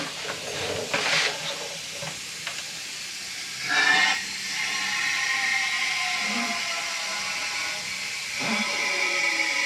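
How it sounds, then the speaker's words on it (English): Compressed air hisses steadily from a leaking seal on a Vevor air bag jack fed by an air compressor at 125 psi, with a few louder bursts of escaping air over a continuous close-up hiss. "I've got the air compressor to 125 psi. I should have used sealant here. It's leaking."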